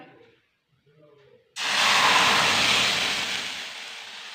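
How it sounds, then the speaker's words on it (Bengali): Lentils hit a hot kadai for sambar with a sudden loud, close sizzling hiss after a quiet start, then the sizzle holds and slowly fades. "এবারে ডালটা ঢেলে দেবো কড়াই"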